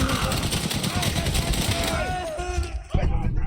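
Gunfire and explosions in the World War I video game Valiant Hearts, set at Chemin des Dames, a dense continuous battle din of shots and blasts, loud and close, with a sharp burst near the end.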